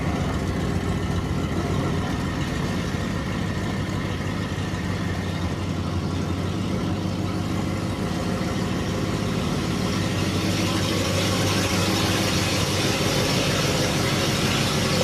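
A 1963 Oldsmobile with a faulty fuel pump idles steadily as it is eased into a garage, a close, continuous engine rumble with no talk over it.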